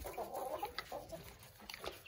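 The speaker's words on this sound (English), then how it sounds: "Grandma chicken." An elderly hen, about three years old, gives soft, low clucks and murmuring calls at close range, faint and uneven over a quiet background.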